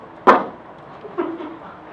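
A voice imitates a period punctuation mark with a sharp, percussive mouth pop, followed a moment later by a short, soft voiced sound.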